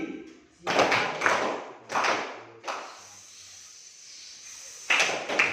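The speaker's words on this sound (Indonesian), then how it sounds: "Tepuk siang, tepuk pagi, tepuk malam, tepuk pagi" A group claps a short call-and-response rhythm pattern in a classroom setting, four bursts of clapping in uneven sequence with pauses between, fairly close, no talking over it.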